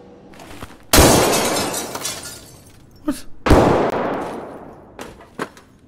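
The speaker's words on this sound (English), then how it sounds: "Yeah, I'm shooting this glass." Gunfire and shattering glass in the video game Escape From Tarkov: two loud bursts of breaking glass, each spilling into a long bright crash of falling shards, with sharp shots and smaller cracks between them.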